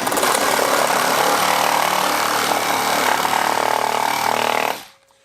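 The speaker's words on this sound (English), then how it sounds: "a brand new pruning blade put into this Hacksaw" A Milwaukee reciprocating saw fitted with a brand-new pruning blade cuts through wood, buzzing loud and close without a break for several seconds before it suddenly cuts off.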